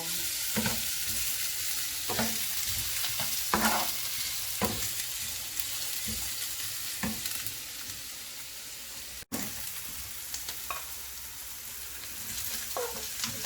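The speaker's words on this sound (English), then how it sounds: "Onion and pepper, we're gonna start frying this up." Onions and peppers sizzle steadily in a hot pan for Filipino sisig, with repeated scraping and stirring sounds from a utensil, close up and continuous.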